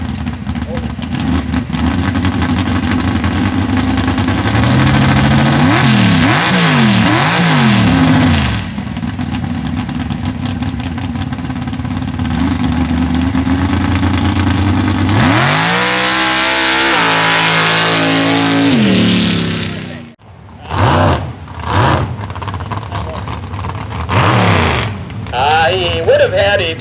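A 1985 Chevy Blazer rally truck's engine revs loud and close, rising and falling in pitch at an outdoor rally, with an announcer talking over it and a sharp cutoff before bursts of revving return.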